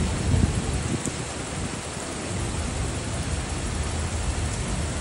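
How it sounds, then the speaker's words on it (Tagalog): Very heavy rain pours down steadily under dark storm clouds in a built-up area, a dense, unbroken hiss that stays loud and even throughout with no voices. "Sobrang lakas ng ulan o."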